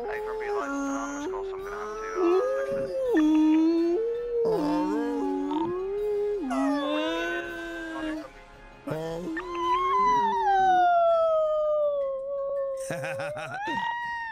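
A voice imitates whale song with long, sliding, wavering moans and cries that rise and fall in pitch, delivered close and fairly loud across several drawn-out calls.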